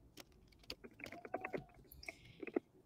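Typing on a computer keyboard, with an irregular run of small key clicks and taps at low level and a few brief faint tones mixed in.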